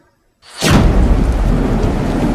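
A thunderstorm sound effect bursts in after a moment of silence: a loud crack of thunder gives way to a steady, heavy roar of rain and rumble that stays full and close throughout.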